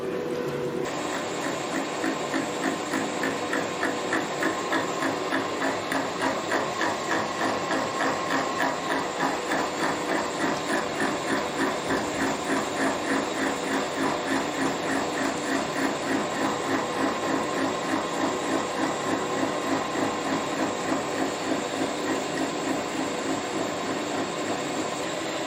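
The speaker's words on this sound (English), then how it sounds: "so all set up now to cut my 50-tooth gear" A gear cutter turning at 200 RPM cuts teeth into a 50-tooth gear for a Webster engine build, making a loud, continuous machining roar with a fast, regular chattering pulse that runs throughout.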